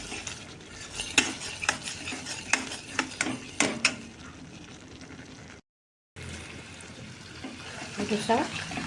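Close, busy sizzling and frying of homemade cow ghee with repeated scraping and clinking of a spoon stirring in a pan, a brief gap midway, then more sizzling.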